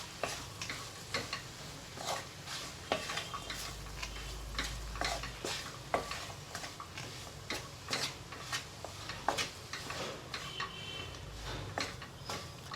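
A spoon works through a mashed potato mixture for magic green chilli, scraping and clicking against the pan in a steady, close, irregular rhythm, with no voices.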